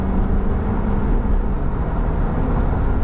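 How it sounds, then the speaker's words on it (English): Ford F350 Power Stroke diesel pickup with a 6-speed, towing a heavy trailer up a 6% grade at wide open throttle, a steady dense low drone with road and wind noise, no speech. "Oh yeah, wide open throttle."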